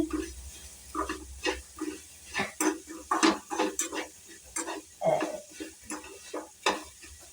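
Onion samosa filling with coriander frying in a pan, with an irregular series of scraping, clattering spatula stirs over a soft sizzle, close by and without talk.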